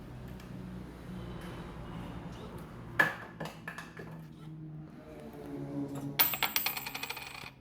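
Coins clatter out of a solar-powered waste disposal machine that pays coins in return, one metallic drop first, then a rapid cascade of ringing clinks near the end over a low machine hum.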